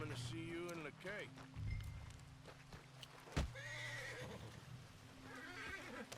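Horse neighing in Red Dead Redemption 2, several whinnies with hoof clip-clops over a steady in-game ambient bed, a sharp thump midway, fairly close and clear.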